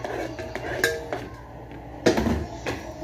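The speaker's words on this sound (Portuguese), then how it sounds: "Vou colocar aqui na panela." Chopped onion and two garlic cloves go into a pressure cooker with a few sharp metallic clinks and knocks of utensil against pot, close by in a quiet kitchen.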